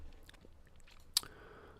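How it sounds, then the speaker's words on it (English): Ice gets chewed close by, giving soft grinding and then a single sharp, bright crunch. "I should probably stop chewing ice."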